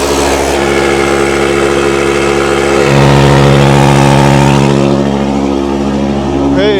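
A new slurry tanker's pump running in blowing mode on an Irish farm, a loud, steady mechanical drone close by that holds constant throughout, with a slight rise in pitch partway through.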